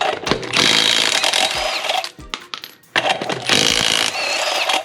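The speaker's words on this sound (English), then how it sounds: "First, got to take off the wheel." Power tools work loose the lug nuts on a first-generation Toyota Sequoia during front wheel removal, loud close bursts of rattling impact-wrench hammering separated by a brief pause, with metallic clinks in between.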